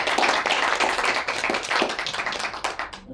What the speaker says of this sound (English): How about a round of applause for Mr. Raul?